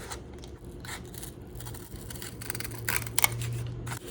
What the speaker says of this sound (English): Use a piece of this box. Cut that out.